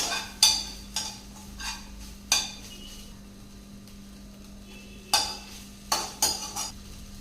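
Soya chunks and tomato being sautéed in a pan, heard as a handful of sharp spatula clinks and scrapes in irregular bursts over a steady low hum, with no talking.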